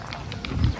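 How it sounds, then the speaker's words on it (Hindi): Hooves of a donkey cart clip-clopping along a street in Sukkur, Sindh, Pakistan, a few sharp knocks in an uneven rhythm with low rumbling traffic and faint talk behind. "गधा गाड़ी है।"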